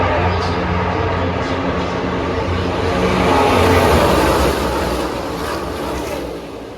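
NASCAR race cars roar past at Daytona during the Coke Zero Sugar 400, a continuous, deafening engine drone that swells and fades slightly, heard from the grandstands with crowd noise blended in.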